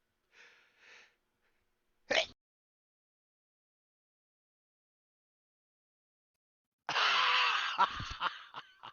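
A couple of soft breaths, then a single sharp, sudden sneeze, followed after a pause by a louder burst of noisy, sputtering sound close by.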